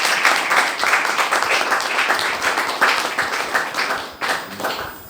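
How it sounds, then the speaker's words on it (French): Audience applauding the Lord at a church service, dense continuous clapping mixed with cheers, loud and close, tapering off slightly toward the end. "Est-ce qu'on peut acclamer les Seigneurs?"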